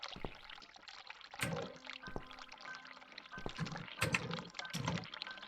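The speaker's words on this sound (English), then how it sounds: "I can hear the water running." Running water in the horror adventure game The Cat Lady, a steady pouring and splashing flow with a few louder gushes and faint background tones, heard alone without talk.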